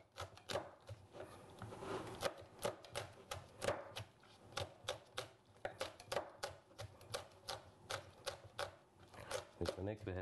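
A knife chops chilies rapidly and steadily on a cutting board, sharp close taps in an uneven rhythm that continues throughout.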